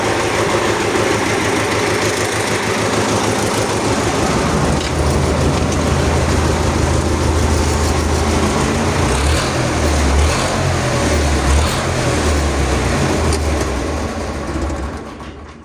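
A YuMZ tractor's D-65 diesel engine runs after repair, a loud, steady close-up rumble with an even low throb that holds for the whole stretch before easing slightly at the end.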